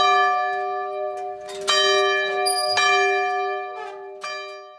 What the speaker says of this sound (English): and bell tolling.